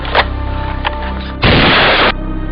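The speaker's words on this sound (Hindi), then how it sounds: "तूने मुझ पर गोली चलाई है।" A gunshot in a Hindi-language action film bursts out loud and sharp as one heavy blast after a couple of quieter clicks and knocks, then cuts off abruptly.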